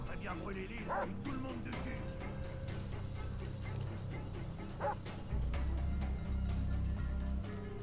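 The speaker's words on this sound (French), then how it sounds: "Et ce putain de chien là." A dog in the video game Far Cry 3 barks and yips in a few short bursts over game background sounds and a low droning hum, with someone talking at times.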